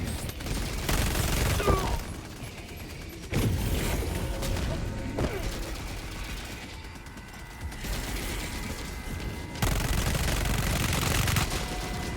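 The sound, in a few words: MG turret firing in video game Helldivers 2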